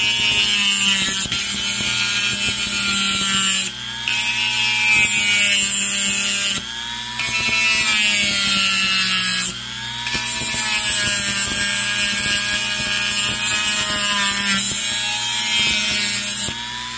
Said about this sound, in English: I'm going to use a little tiny cutoff wheel here.